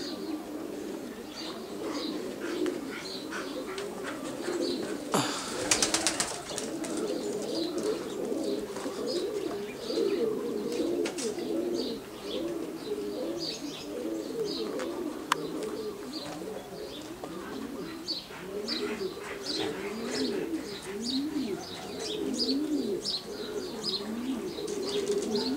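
A flock of racing pigeons circles after release from the loft, with dense overlapping wingbeats, cooing and chirps in a steady outdoor wash, with no talk.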